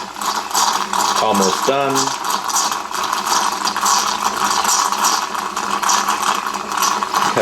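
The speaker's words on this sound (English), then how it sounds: "Like gangbusters, it's cleaning itself out again." A Jura J9 One Touch coffee machine rinses its milk system, hissing and gurgling steadily with a few mechanical clicks and whirs near the start, while someone speaks briefly over the noise.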